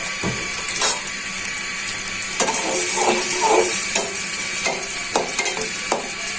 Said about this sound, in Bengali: তেলটা দিয়ে ভালো করে পেঁয়াজটা ভাজা হয়ে যায়